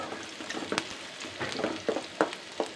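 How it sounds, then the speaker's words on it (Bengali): Onion, garlic and dried chili fry together in a pan with a soft, close sizzle, broken by irregular scraping and clacking stirs of a utensil, and no talking. "পেঁয়াজ, রসুন আর শুকনো মরিচটা একসাথেই দিয়ে দিলাম আজকে।"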